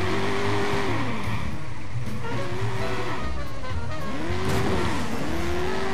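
A car in the video game Watch Dogs drives hard, its engine rising and falling in pitch with squealing tires as it skids and accelerates, loud and continuous with no speech.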